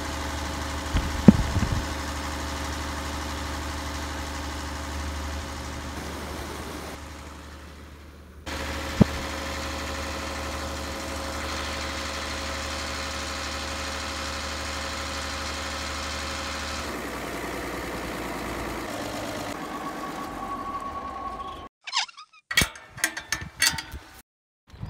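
Diesel engines idle on a rice farm with a steady low rumble and vibration, dropping briefly, then cutting out toward the end, leaving scattered clunks and noises.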